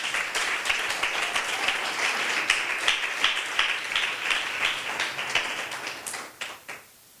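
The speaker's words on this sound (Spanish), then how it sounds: "Ríndale palmas en esta tarde a nuestro Señor Jesús." A church congregation claps in praise during an evangelistic service, a dense, steady patter of many hands that carries on for about six seconds before fading out.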